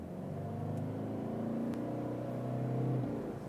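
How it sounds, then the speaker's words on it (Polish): A Toyota Land Cruiser diesel engine revs steadily and loudly for a few seconds, a low rumbling drone with a slight rise in pitch toward the end, heard from close by without any talk. "Diesel, pracuje jak diesel."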